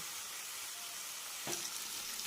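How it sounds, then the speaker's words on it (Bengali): Poppy seed paste being sautéed in oil in a pan for a posto dish: a soft, steady background sizzle, with a few light scraping stir sounds near the end. "পোস্ত বাটা দিয়ে হালকা একটু কষাবো"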